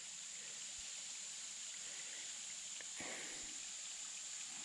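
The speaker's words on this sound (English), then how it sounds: "here's a shot from the very top of the falls from the other side of the creek" Kentucky's tallest waterfall rushes in a steady, even roar below the creekside lip at the top of the falls, with a few faint splashes and knocks nearby.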